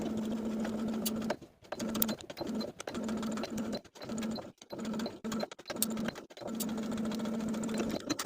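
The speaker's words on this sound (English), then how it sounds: "we can sew along the inner edges along the line that we traced onto the fabric" A sewing machine stitches neckband pieces along the traced inner edges of fabric for a summer top, running in steady, close, humming bursts broken by several short pauses.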